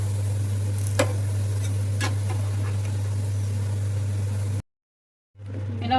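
Onions frying in oil until brown for Hyderabadi chicken dum biryani, a steady soft sizzle over a low hum with a few faint clinks, briefly cutting out before resuming.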